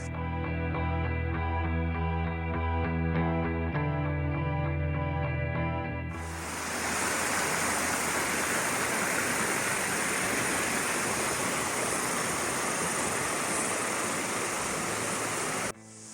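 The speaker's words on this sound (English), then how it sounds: "I'll go up here near these rapids and just grab a bit more water" River rapids in the Pelorus River gorge near Pelorus Bridge rush loudly and continuously, a dense close roar of whitewater that takes over after several seconds of music.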